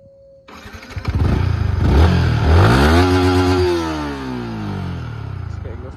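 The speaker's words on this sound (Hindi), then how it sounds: "इसका एग्जॉस्ट नॉट कुछ ऐसा है" A Yamaha MT15 motorcycle with its stock exhaust starts, then revs loudly and close, engine pitch rising and falling once before settling to a steady idle; no speech.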